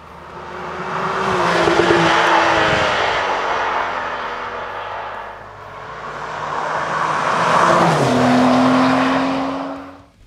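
A 2023 Porsche 911 Carrera T is driven hard through curves, its engine revving loud and close, with the pitch rising and falling through two long swells and a shift at the end.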